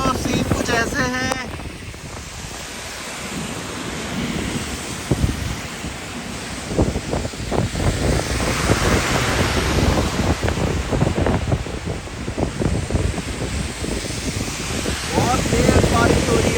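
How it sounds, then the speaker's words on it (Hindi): Heavy rain pours steadily on a road toward Madina in a downpour with strong wind, a loud continuous wash broken by scattered gusts and thumps, with people talking over it at times. "बहुत तेज बारिश हो रही है।"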